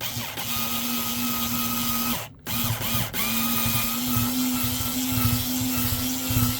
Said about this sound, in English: I'm going to try and drill this aluminium rivet out.